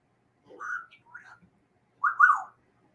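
A pet bird whistles a few short, bright notes, pausing between phrases, fairly close in an otherwise quiet room.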